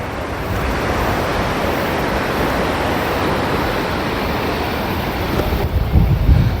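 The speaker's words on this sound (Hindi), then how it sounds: "उस तरफ स्नो और ये बहती हुई नदी।" A muddy, rain-swollen river rushes past near Manali on the mountain road toward Jispa, a steady, close, broadband roar of flowing water with no speech over it.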